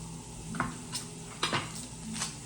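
Butter going into a hot pan for cooking lamb at a home Sunday dinner, with a soft sizzle under light clinks and taps of pans and utensils, a few distinct knocks spread across a quiet kitchen background.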